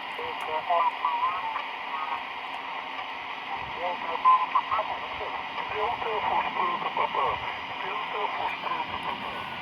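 Radio static and hiss from a receiver being tuned, with faint broadcast speech drifting in and out beneath the steady band noise.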